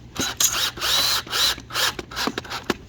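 Power drill driving screws through metal straps into 4x4 wood posts: several short bursts of whirring motor broken by brief pauses, close and fairly loud, with no voices.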